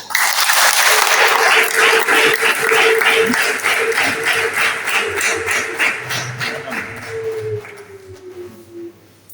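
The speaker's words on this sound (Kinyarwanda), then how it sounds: "Reka dushimire Imana, tuyihe amashyi kuri aya mahugurwa meza twagize" An audience at a religious studies teachers' training session breaks into loud, sustained rhythmic clapping that gradually thins and fades out, with faint voices underneath.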